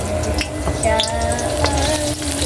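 Vegetables sautéing in a hot pan for adobong sitaw, a dense continuous sizzle and crackle of frying with light stirring scrapes running throughout.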